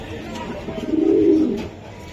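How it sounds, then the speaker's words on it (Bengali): A single racer pigeon gives one soft, throaty coo that swells and fades over about a second against quiet background noise. "এই যে নীলে ডিম দিব কবুতরটা"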